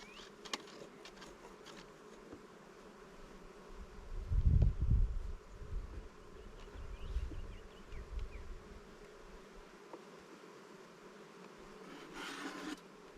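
Honeybees in a newly set up hive give off a steady, agitated buzzing that swells and becomes louder and closer midway, with faint rubbing and handling noises around it.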